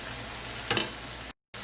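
Rice goes into a hot pan of oil on a medium stove for tofu rice with crispy onions, raising a sudden close hiss of sizzling that settles into a steady frying sound.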